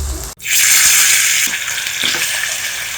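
Chicken frying in a pan sends up a loud, steady broadband sizzle that starts abruptly after a brief cut and continues unbroken, with faint stirring knocks underneath.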